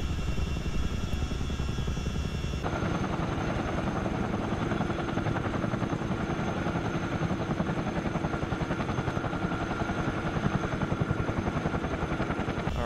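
A Chinook helicopter flying low over a Canadian wildfire in Microsoft Flight Simulator, a steady loud rotor thrum with fast rhythmic beating and engine whine throughout.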